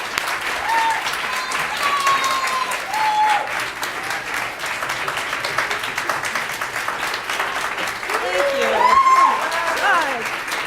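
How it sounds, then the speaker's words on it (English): An audience at an alumni award presentation claps for Kate, with sustained, even applause filling the room and a few faint whistle-like tones rising over it. "So please, another round of applause for Kate."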